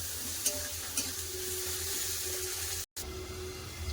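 Tomatoes with salt sautéing in a pan give off a steady, even sizzle with faint stirring scrapes, broken by one brief silent gap.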